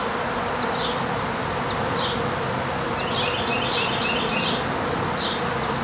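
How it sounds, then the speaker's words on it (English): Honeybees hum in a top bar beehive in a dense, continuous drone, with a few louder buzzes darting close past, and no voices. "So many bees"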